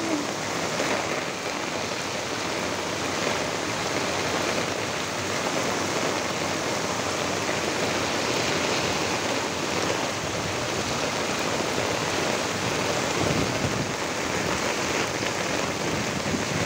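Swollen river during Typhoon Kristine roaring in a steady, dense wash of rushing water mixed with heavy rain, loud and unbroken throughout with no pauses.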